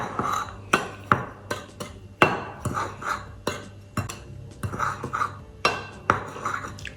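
Sesame seeds and sugar being stirred together in a bowl, with a spoon scraping and knocking against the sides in irregular close clinks and grainy rubbing, no talk.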